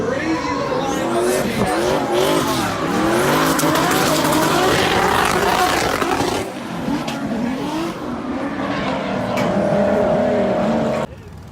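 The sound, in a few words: race cars drifting with tire squeal at Hyperfest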